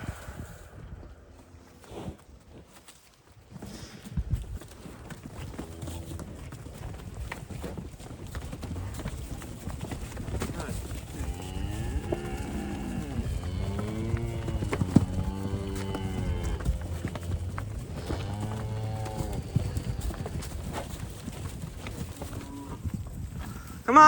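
Cattle being moved to feed near bale rings: hooves clatter steadily while several cows moo in long, drawn-out calls, some close and some farther off, over a continuous outdoor shuffle.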